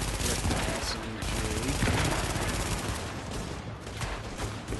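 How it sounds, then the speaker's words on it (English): An SMG fires in the video game The Division, giving dense, loud bursts of rapid gunfire that nearly fill the short stretch, with some faint talk underneath. "I'm just going to walk up to it with my SMG"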